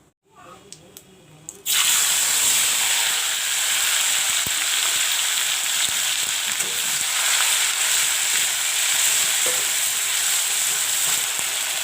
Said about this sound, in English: I have ground onion, jeera and garlic over here. I made a paste. This I will put in the oil.